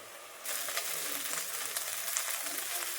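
Salt and cumin sizzling as they fry in a pot, a steady close crackle that jumps up in loudness after a brief quieter start and carries on alone.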